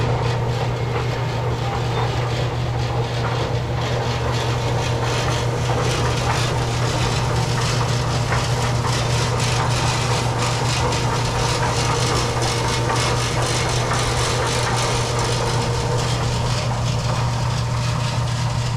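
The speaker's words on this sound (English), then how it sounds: "Look at all the engine horsepower I'm using. This is taking an immense amount of power just to dig out these peanuts." A tractor engine working hard while pulling a peanut digger through a field, a constant loud low drone with steady rumble and mechanical clatter throughout, no voices.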